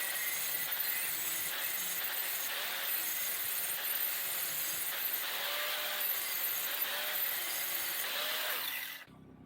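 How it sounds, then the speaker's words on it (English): Angle grinder fitted with a wire brush working on a firewood axe head, a continuous harsh scraping whine that stays steady throughout before cutting off abruptly at the end. "Let's go set up with the grinder and see how that goes."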